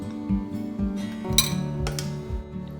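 A spoon clinks repeatedly against a bowl while sesame oil, sugar, oyster sauce and seasoning powder are stirred together; the taps come in a steady rhythm, close and fairly clear, with no talking.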